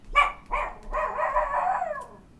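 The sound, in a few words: dogs barking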